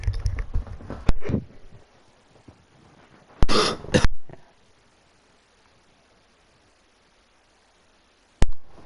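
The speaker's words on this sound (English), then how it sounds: "Just had to cough so much right? there." A person coughing and clearing the throat during a racing live stream, a few sharp close bursts separated by quiet pauses.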